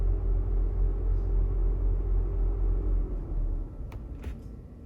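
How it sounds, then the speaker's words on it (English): Car engine cooling fan, commanded through an Otofix scan tool, roars steadily as a low broadband rumble, then drops off near the end as it shuts down, leaving a lighter hum with a few faint clicks. "I'll be quiet for a second just so you'll be able to hear the fan come off or shut off."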